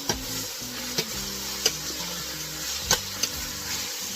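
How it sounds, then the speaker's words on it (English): A large Spanish onion frying in a pot for black-eyed pea soup, a soft steady sizzle broken by a few light clicks of stirring. "After that, we can put our onion."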